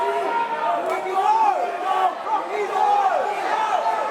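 A live wrestling event crowd roars and chants during a tag match, a dense, steady wall of voices swelling in waves, with a commentator talking over it.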